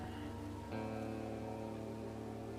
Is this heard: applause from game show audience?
no